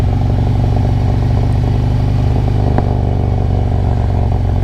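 A motorcycle engine brakes in first gear descending Mount Washington, running steadily at low revs, a deep continuous droning rumble with one brief clack partway through, close and loud, no voices.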